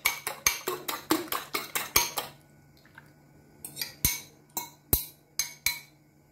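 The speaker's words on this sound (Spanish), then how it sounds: "Y seguimos mezclando." A utensil clinks against a bowl while eggs are mixed into an eggplant meatball mixture. A quick, rhythmic run of sharp taps comes first, then a pause, then slower, scattered knocks, close and clear with no talking.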